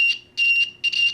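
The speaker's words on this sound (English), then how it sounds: "I'll take this wire and I'll tap it on here, and we're hearing a beep" A continuity tester gives three repeated high electronic beeps, each roughly a quarter second long, while checking a stereo audio cable rewired to mono. The beeps are loud and close with short gaps between them, and no talking is heard.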